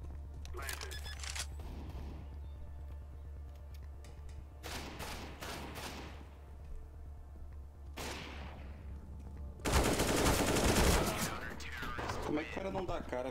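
CS:GO gunfire arrives in loud bursts of rapid shots, separated by short pauses, with a heavier cluster near the end; a voice talks across the shooting.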